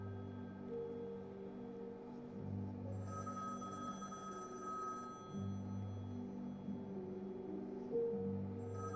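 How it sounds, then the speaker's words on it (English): An analog telephone bell rings from a box on a table in repeated bursts with short pauses between, a steady metallic trill over a low background hum. "box on table with analog phone ringing sounds coming out of it"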